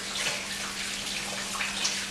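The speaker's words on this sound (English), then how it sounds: "I'm just going to give my hands a rinse" A kitchen tap runs steadily as hands are rinsed while cooking buffalo chicken, a continuous close splashing stream of water with a faint hum underneath.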